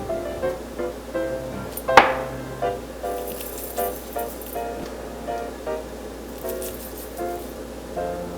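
A wild chive seasoning sauce being mixed in a bowl, with soft wet squishing and repeated light clinks of a utensil against the bowl, close and alone, plus one sharper clink near the start.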